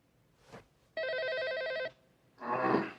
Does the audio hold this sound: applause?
no